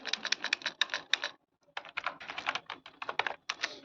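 Quick clicking keystrokes on a computer keyboard type out a short word, two close bursts of taps split by a brief pause, with no talking.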